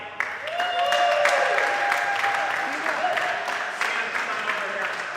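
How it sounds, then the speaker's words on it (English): Crowd applause for two squash teams, the Greenwich Panthers and the Philadelphia Lightning, at a professional league match: steady clapping over several seconds with a squeaky, whistling tone running through it. "Ladies and gentlemen, a big round of applause for the Greenwich Panthers and the Philadelphia Lightning"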